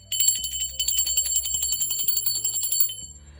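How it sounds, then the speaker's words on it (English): A small bell rung for spirit guides during a spiritual reading, a bright metallic burst of rapid ringing strikes that decays over a few seconds, close and alone, without talk. "I'm gonna ring the bell for my spirit guides, guardian angels, and ancestors."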